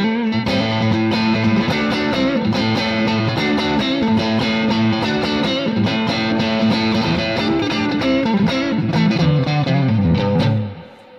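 Electric guitar played through an amplifier on a vintage tone setting, with repeated strummed chords and picked notes forming a full, sustained, slightly driven tone that rings close and loud, then fades out at the end.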